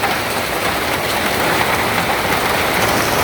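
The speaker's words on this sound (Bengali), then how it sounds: "বৃষ্টির শব্দ রাখি কাপড় টুপুর কাপড় টুপুর, টিনের চালারও বেশি শব্দ হয়" Rain drums hard and steadily on a tin roof in a village home, a loud unbroken patter with no voices.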